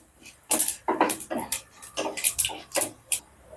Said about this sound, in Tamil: இப்போ கடுகு நல்லா பொரிஞ்சிருச்சு.